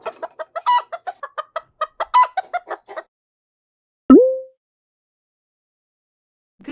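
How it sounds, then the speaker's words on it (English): A chicken clucks in a quick, rhythmic run of short, close clucks lasting a few seconds, then falls silent before a brief chime-like sound effect. "Chicken."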